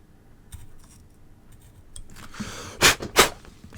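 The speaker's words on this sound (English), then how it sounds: "Right, so we cut the track off." Two sharp, close snips cut a damaged track on a CTEK MXS10 battery charger circuit board, following a few faint handling clicks and rustles.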